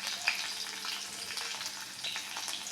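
Chillies and onion fry in hot oil in a pan for uppitu, a continuous close hiss-and-crackle with light stirring, steady and moderately loud.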